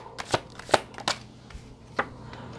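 Tarot cards are shuffled and drawn by hand, giving a few sharp, close riffling snaps and flicks spaced irregularly over a quiet background, with no talking.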